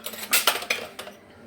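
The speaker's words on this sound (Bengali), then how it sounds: "আর এখানে এই যে হাঁড়ি পাতিলগুলি গুছিয়ে নিচ্ছি" Metal pots and pans clank and clink together up close, a handful of bright knocks in quick succession before it falls quiet.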